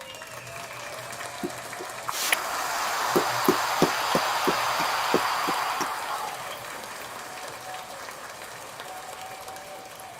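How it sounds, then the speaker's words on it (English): An audience claps through a round of applause at a rap battle tournament held on a podcast set. The clapping rises, holds steady for several seconds with a few sharp near claps, then fades. "Round of applause to him and round of applause to Benny."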